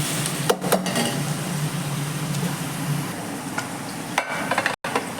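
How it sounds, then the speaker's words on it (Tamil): Onions and tomatoes sauté in oil for mutton biryani, a steady close sizzle broken by a few scraping stirs and clinks of the spoon. "வெங்காய தக்காளி நல்லா வதங்குது."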